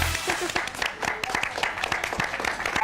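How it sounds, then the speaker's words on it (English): Studio audience applause and clapping at a Hong Kong variety show, a dense burst of many hands that keeps going steadily, with some voices and crowd noise mixed into the clapping. "Oh, give this man a round of applause."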